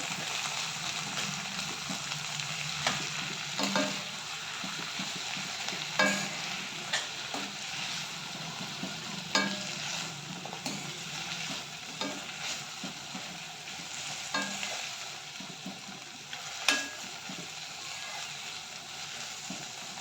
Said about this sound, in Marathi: मेथीच्या भाजीला सुद्धा छानपैकी तेलामध्ये परतून घ्यायचं.